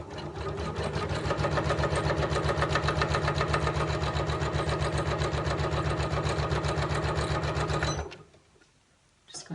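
A Janome MC9900 sewing machine stitches straight lines on a fabric drawstring bag, running a fast, steady needle rhythm for about eight seconds before stopping abruptly, followed by near silence.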